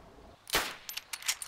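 Gunfire in the video game DayZ, heard as one sharp crack followed by several lighter, quicker shots or echoes, faint and distant, with no voices.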